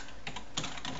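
Faint keyboard typing plays as a few soft keystrokes over a steady background hiss, quick and close but low in level.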